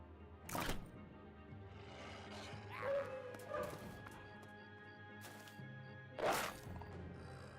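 Dogs barking and yelping in the turn-based battle game Battle Brothers, a few sharp separate barks and whimpers over quiet game ambience, with soft whines between them.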